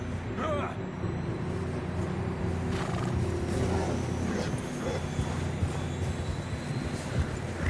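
Horses in the Red Dead Redemption 2 video game, a neigh and whinny standing out early among clip-clopping hooves and a low background drone, moderately loud with brief talk.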